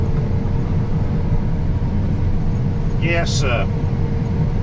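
Steady, loud machine drone of a John Deere S790 combine harvester running on tracks across a cornfield headland, filling the whole clip beneath a man's brief speech.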